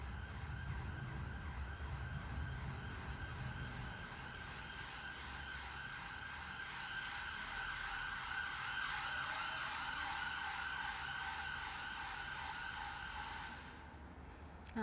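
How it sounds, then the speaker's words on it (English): An emergency vehicle siren wails steadily at a distance for about fifteen seconds, faint and sustained over low traffic rumble, then cuts off at the end. "Now the siren's over."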